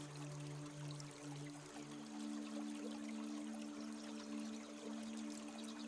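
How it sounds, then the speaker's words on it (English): Faint, continuous rush of flowing water hisses evenly in the distance, with a low steady hum running beneath it. "You can hear water somewhere, stream, or a distant waterfall"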